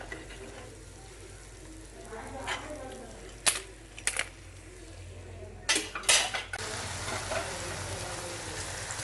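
Rice flour nachos fry in hot oil with a soft, steady sizzle, broken by several sharp clinks and scrapes of a metal utensil against the pan, while a voice talks faintly now and then.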